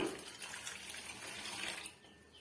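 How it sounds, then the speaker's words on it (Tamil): Water poured into a thin cornflour and masala batter in a bowl, a steady close splashing stream that runs evenly for a couple of seconds and then eases off. "ஒரு முந்நூறு எம்எல் அளவுக்கு நம்ம தண்ணி சேர்த்துக்கலாங்க லிக்விடாக தான் இருக்கணும் இது"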